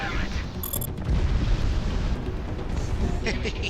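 Torpedo explosion in the Project Wingman flight game, a deep booming blast rising about a second in and rumbling on under ongoing combat noise, with radio-style voices talking over it.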